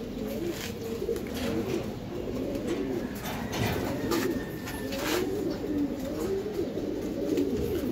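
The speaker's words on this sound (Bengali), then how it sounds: "টানা গলা কবুতর" Long-necked racing pigeons coo steadily and close by in a loft, their soft low calls overlapping continuously throughout with no talking.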